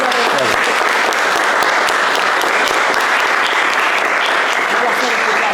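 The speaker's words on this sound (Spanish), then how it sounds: "Un aplauso" A live audience applauds steadily at a talk on Argentina's economy, dense clapping holding at full volume for several seconds with a few voices mixed in.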